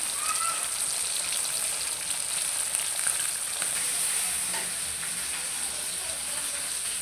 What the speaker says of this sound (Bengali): এই যে মাছ ভাজা এক সাইডে সুন্দর মতো মাছ ভাজা হয়ে গেছে